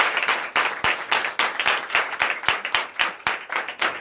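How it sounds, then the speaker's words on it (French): A church congregation at a Sunday service in Benin claps together in acclamation, a quick, fairly regular run of loud, close hand claps over a few seconds. "Donnez l'acclamation à l'Éternel."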